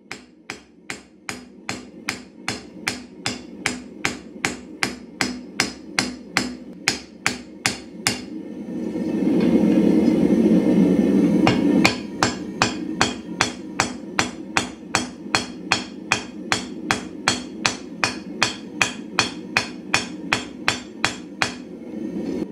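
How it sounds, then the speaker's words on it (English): Steady metallic hammer blows on a hot steel bushcraft chopper blade ring out one after another in an even rhythm, close and loud, broken by a few seconds of roaring hiss before the hammering resumes. "I use the round side of my hammer to push the metal out"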